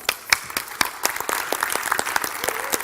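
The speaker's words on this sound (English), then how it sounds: "Let's give him a round of applause." An audience gives a round of applause, dense clapping with sharp individual claps standing out, loud and close, the crowd noise carrying on evenly with no talking.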